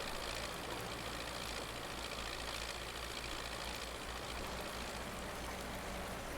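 Tractor with a cab idling in Farming Simulator 19, a steady low engine drone with a faint knocking rumble, constant and fairly quiet with no talk over it.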